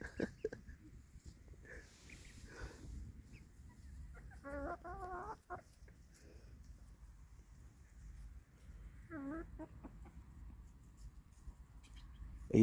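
Chicken clucking at a motorcycle campsite during a Peak District tour: a few short, faint clucking bursts over low outdoor rumble.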